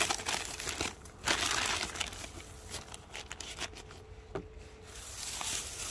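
Dry newspaper is crumpled and rubbed over plant cuttings prepared for grafting, giving close, irregular bursts of papery crinkling and scuffing with short pauses between strokes, and no one talking.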